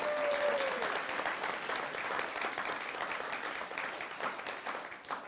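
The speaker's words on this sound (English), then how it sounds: "Let's give him another round of applause" Steady applause from a church congregation at a Sunday service, a dense, continuous wash of many hands clapping that holds loud throughout and tapers slightly toward the end.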